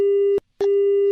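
A steady electronic telephone tone sounds loud and alone in two long beeps separated by a short gap, the signal of a disconnected phone call.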